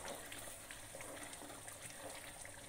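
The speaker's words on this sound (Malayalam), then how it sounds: "ഇനി സെക്കൻഡ് ഒഴിക്കാം." Thick second-press coconut milk pours into a duck curry, a faint, steady liquid gush with no talking.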